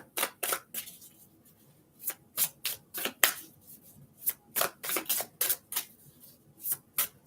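Tarot cards are shuffled by hand in quick riffling bursts, crisp and close, repeating in an uneven rhythm with short quiet gaps between.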